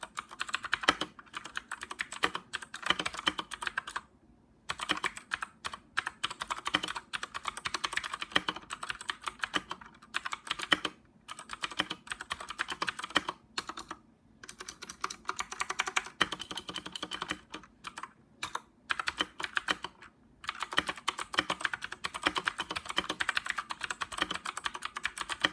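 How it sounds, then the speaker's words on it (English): Clicky RK61 mechanical keyboard with blue switches, typing fast and continuous with brief pauses, each keystroke sharp and close-up. "we're going to be doing a little sound test ASMR, just so you guys can actually hear it."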